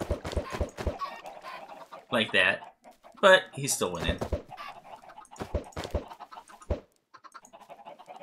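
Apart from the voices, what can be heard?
chickens clucking in the video game Minecraft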